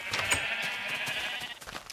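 A Minecraft sheep bleats in a wavering, steady tone that holds for about two seconds at moderate loudness, with no talking over it.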